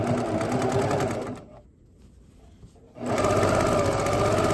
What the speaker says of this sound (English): I'm gonna stitch off the end of that, backstitch it